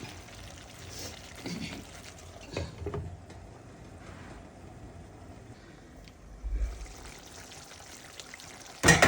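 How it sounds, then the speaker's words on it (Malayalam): Boiling water pours into chicken curry in a couple of short splashing bursts over a low background rumble, with a louder splash near the end. "നമുക്ക് ചൂടുവെള്ളം തിളച്ച വെള്ളം അല്പം ചേർക്കാം"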